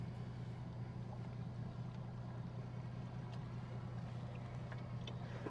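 Fishing boat engine idling low and steady over a spot on the water, a continuous droning hum with light wind noise and faint water sounds, no talking.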